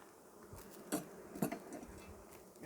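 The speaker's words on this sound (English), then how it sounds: "I've got bees all the way across in every single frame" Bees buzz across the frames of an open beehive during an inspection, a steady faint drone with a few louder passes close by.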